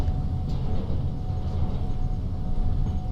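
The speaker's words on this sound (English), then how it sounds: "You can hear there the train is still struggling." A locomotive in the Trans-Siberian Railways Simulator game labors with a continuous, heavy low rumble and steady mechanical drone, a faint tonal whine running through it and no voices.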